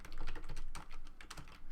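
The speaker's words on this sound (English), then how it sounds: "My keyboard is a very old Microsoft keyboard," Rapid typing on an old Microsoft Comfort Curve 2000 keyboard, a quick irregular run of close, crisp key clicks with no talking.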